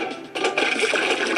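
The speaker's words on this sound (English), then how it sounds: "Click on the handle to pump the water." Water gushes and splashes steadily from a pump handle into a train engine in a Thomas the Tank Engine video game, starting softly then swelling louder after a brief click, continuous hiss-like flow with no speech.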